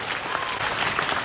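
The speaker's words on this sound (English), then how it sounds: "you can applaud that, because she's yours too" A crowd at a Fan Expo Canada panel applauds steadily, giving a dense, close wash of clapping that lasts briefly with no break.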